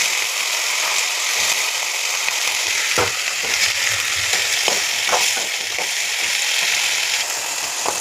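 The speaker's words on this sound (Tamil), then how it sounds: "காய் நல்லா எண்ணெயிலேயே இப்படி வெந்துடணும்." Drumstick and eggplant pieces frying in oil, a loud constant hissing sizzle with intermittent scraping and clacking from stirring, close up and without speech.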